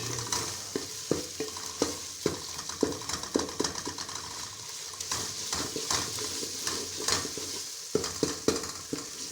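Ginger garlic paste frying in a pan, a continuous hissing sizzle with frequent quick scraping strokes of a spoon, close and moderately quiet, no speech.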